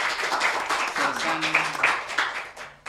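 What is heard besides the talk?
audience applauding Sergeant Budiono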